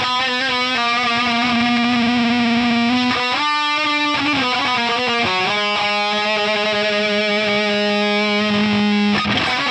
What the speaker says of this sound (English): Then you've got this doubler here. Let's check that out.